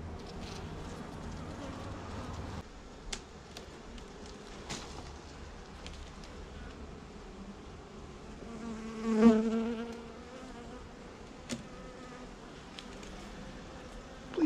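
Honey bees hum faintly around an open Apimaye beehive during an inspection of a split colony, and one bee buzzes loudly past up close midway through.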